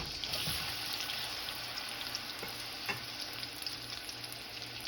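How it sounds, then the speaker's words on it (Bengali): Eggs frying together in a pan, a close, continuous sizzle with a soft hiss and occasional small pops and clicks, steady throughout with no talking. "সব ডিমগুলো আমি একসঙ্গে দিয়ে ভেজে নেব সুন্দর করে।"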